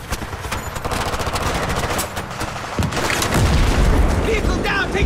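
Sustained machine-gun fire and scattered gunshots ring out during an ambush from the left by trees in a Battlefield 3 campaign battle, with booms and voices shouting over the dense, continuous shooting.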